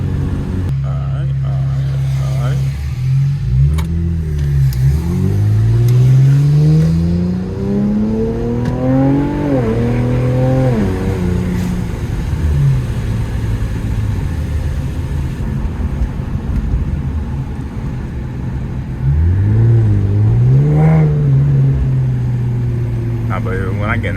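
An Infiniti Q50 fitted with new intakes and a downpipe revs hard while driving at night, engine note climbing and falling through repeated loud pulls, with someone talking over parts of it.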